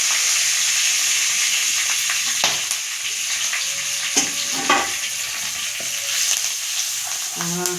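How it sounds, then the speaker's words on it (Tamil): Ground spice powder sautéing in oil for a garlic curry, a steady close hiss of frying with occasional scraping stir strokes and clinks of a ladle against the pan. "அந்த அளவு போட்டுக்கிறேன் எண்ணெயில் போட்டு நல்லா ஆ வதக்கிறோம்"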